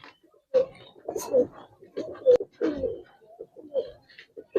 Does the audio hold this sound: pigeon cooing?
yes